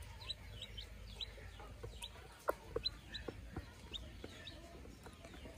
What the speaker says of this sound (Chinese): 这些小鸡不是很怕人，